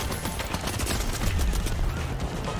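Turret fire in the shooter game The Finals, a dense continuous rattle of rapid shots layered with other battle noise, loud and close for a few seconds without talk.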